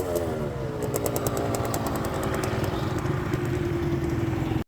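A motorcycle engine on a mountain trail runs at a rough, busy idle, a buzzing, rattling drone with a faint revving swell near the start, moderately loud and heard alone.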